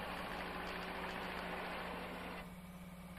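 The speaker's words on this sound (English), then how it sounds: "now let's look at the paver or laydown machine." An asphalt paver's tractor engine idles steadily with a low, even mechanical rumble and vibration, dropping slightly in level near the end, with no voices.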